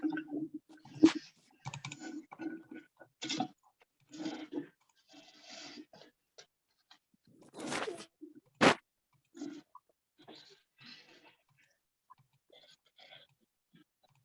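Typing on a computer keyboard during an online Thai language lesson over Zoom, irregular bursts of close key clicks separated by pauses, with one sharper louder click near the middle, no talk.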